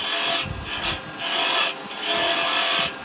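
A finger gouge cuts wood on a lathe while spinning tops are turned, a steady close rasping scrape that swells and eases in repeated passes.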